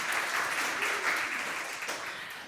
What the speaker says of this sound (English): you can give them a round of applause for being here